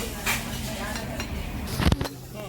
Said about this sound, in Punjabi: ਇੱਕ ਭੈਣ ਸਾਡੇ ਦੇ ਭਾਂਡੇ ਧੋਈ ਜਾਂਦੀ ਹੈ